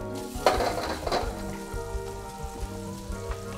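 Leftover fried rice with scallions, Anaheim chili and frozen shrimp sizzles loudly in a hot pan as it is stirred, with two sharp clanking scrapes early on over a constant crackling hiss.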